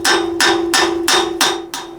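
Building a fence with a hammer, six sharp, even strikes landing about every third of a second, each with a bright ring. Close and loud, with no voices.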